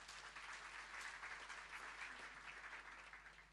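A church congregation applauds during a sermon, a steady wash of clapping heard at a distance, quiet and sustained before tapering off slightly at the end.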